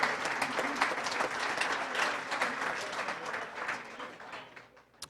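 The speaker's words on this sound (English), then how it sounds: "give them a round of applause" Audience applause at a hall of fame banquet, a steady crowd clapping that holds fairly evenly and then thins out toward the end, heard at moderate distance.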